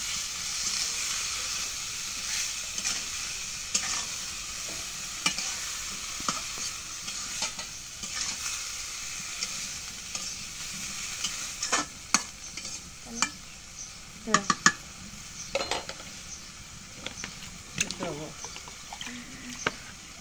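Potatoes go into a pan of onion, chili and khichuri spices already frying in oil; a continuous sizzle runs under scraping stirs that grow sharper and more irregular toward the end, with a voice talking.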